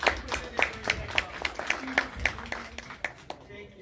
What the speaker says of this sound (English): give a round of applause to all of the presenters who presented during the expo